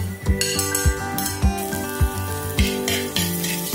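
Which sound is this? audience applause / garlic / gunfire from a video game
garlic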